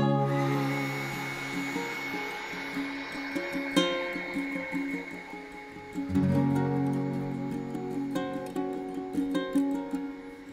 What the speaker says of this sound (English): I'm going to try scrunching it up first and then hitting it with a heat gun.